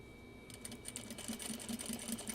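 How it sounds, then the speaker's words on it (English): A sewing machine stitches over a fabric sample while skipping stitches, giving a steady rapid mechanical whir with a regular ticking pulse, moderately close and alone. "We're going to sew over the sample again."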